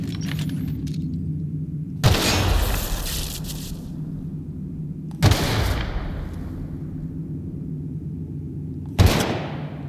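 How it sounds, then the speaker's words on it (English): Three landmines blowing up one after another in The Outer Worlds, each a sudden loud boom with a rumbling, slowly fading tail, spaced a few seconds apart over a low steady hum. "shooting the receptors doesn't do anything, but blowing up the mines does"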